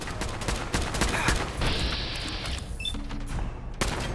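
Gunfire in the video game Fallout 4 fills the clip with dense, continuous crackling shots and game effects, loud throughout with a brief mechanical click sequence near the end.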